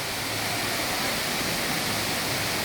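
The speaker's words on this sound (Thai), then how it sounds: "ตรงนี้เนี่ยเป็นวิวน้ำตกนะฮะ" Heavy water flow at the Sai Yok Noi waterfall in Thailand, swollen this year, spilling downstream from the main falls: a steady, unbroken roaring rush close by, with no voices.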